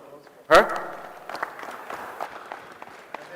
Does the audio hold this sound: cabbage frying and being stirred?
no